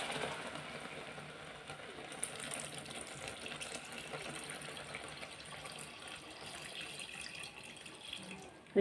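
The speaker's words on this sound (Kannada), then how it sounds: "ಅದಕ್ಕೆ ಈಗ ನೀರು ಹಾಕ್ಕೊಳ್ತಿದ್ದೇನೆ" Water poured into a pan of roasting ragi flour for halwa, a steady, soft rushing splash that runs unbroken for several seconds, fairly quiet and close, with no voices.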